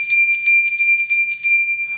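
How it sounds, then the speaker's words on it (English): A Polar Express bell ornament jingles in quick, bright repeated rings, several shakes over about two seconds, close and clear with no talking. "Polar Express bell."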